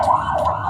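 A brief burst of an ambulance siren in a video game, a loud sustained wailing tone lasting under a second with no voices.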